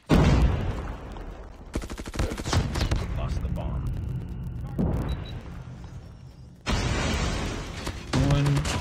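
Rapid bursts of automatic gunfire in the mobile shooter Call of Duty Mobile, loud and dense, several volleys separated by short gaps, with game sounds between them and no talking.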